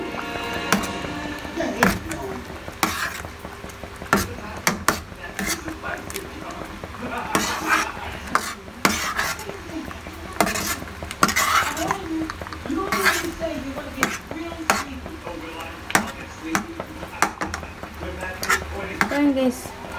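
A spoon stirs a pot of sardine vegetable soup over a low flame, with repeated scraping and clinking against the pot, and a voice talks intermittently over it.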